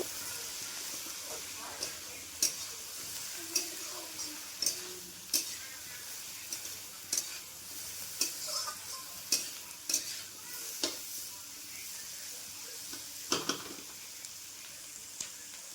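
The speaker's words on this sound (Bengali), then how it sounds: "এবার আমি দিয়ে দেবো এর মধ্যে স্বাদ মতো নুন এবং পরিমাণ মতো হলুদ দিয়ে এটাকে আবার একটু ভালো মতো নেড়ে চেড়ে নেব।" Capsicum and onion are stirred in a pan with salt and turmeric, a spatula scraping and tapping in a steady rhythm of a dozen or so strokes over a quiet, continuous sizzle.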